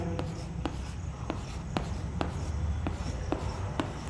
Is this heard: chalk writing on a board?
yes